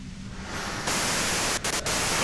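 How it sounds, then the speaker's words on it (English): White noise from the video game Disco Elysium: a dense, steady static hiss that swells louder partway through, with two brief dips in the wash near the end. "you can do it through the white noise."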